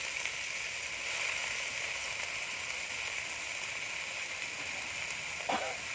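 Leafy greens frying in oil in a wok give a steady, even hiss of sizzling throughout, with a brief clatter near the end.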